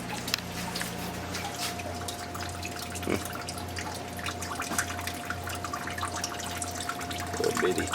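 Coolant drains from the radiator of a 1984 GMC, a steady trickle and patter of liquid with small drips, under a constant low hum, with no talking.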